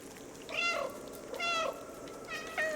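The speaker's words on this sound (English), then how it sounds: "Here, now I can meow." Cat character meowing in the video game Stray, three drawn-out meows spaced about a second apart over a steady low game ambience, fairly close and clear with no talking.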